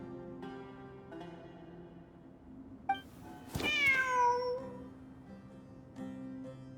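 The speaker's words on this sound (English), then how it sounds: "The cat!" A cat meows once in a video game, a clear rising-then-falling cry over soft ambient music, with a faint chime shortly before.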